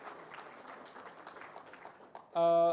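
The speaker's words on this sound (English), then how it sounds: "Give a round of applause." Audience at the release event for the 2024 NSSCO and NSSCAS results applauding, soft and distant scattered clapping that is abruptly cut by a loud sustained electronic tone near the end.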